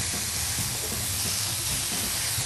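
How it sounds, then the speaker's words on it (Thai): Pork belly fries in hot oil over high heat for a Thai pork-and-peanut stew, giving a steady, loud broadband sizzle and hiss that holds evenly throughout with no talk. "หมูสามชั้นเนี่ยเราลงทอด"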